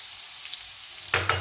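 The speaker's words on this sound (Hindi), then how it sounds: "ये देखिए फ़ौरन मैं इसमें सबसे पहले गार्लिक डालूंगी, क्योंकि फ्राइड राइस है।" Chopped garlic hits preheated oil in a pan for Chinese fried rice, a quiet hiss suddenly bursting into a short, bright sizzle near the end.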